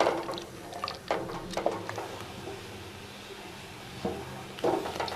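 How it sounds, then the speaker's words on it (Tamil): Palada payasam with rice ada bubbles in a pot, soft irregular liquid blips and drips over a low simmering background, close and fairly quiet. "நல்லா கொதிச்சிருச்சு"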